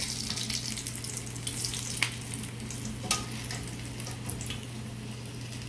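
A battered chile relleno frying in a pan of oil, a soft continuous sizzle with occasional sharper crackles over a low hum.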